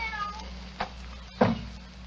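A cat gives a couple of short, fairly loud meows close by in a quiet room, with a small sound before them and faint background hum.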